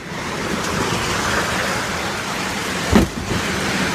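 Heavy storming rain pours down in a steady, loud, dense hiss with no break, and a brief louder thump cuts through near the end.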